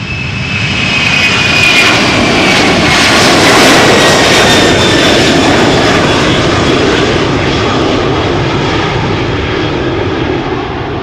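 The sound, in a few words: Boeing 767-300 jet taking off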